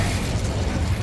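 A fiery Incendio spell cast in the wizarding game Hogwarts Legacy, a brief, dense roaring burst of flame with a rumbling low end that holds steady for about a second.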